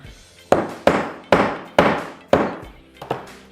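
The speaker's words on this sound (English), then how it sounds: "Hammering stuff is just so fun." Close, solid hammer blows drive rivets into leather bag straps: six or seven heavy, thudding strikes with short ringing decays, spaced roughly half a second apart, with no talking.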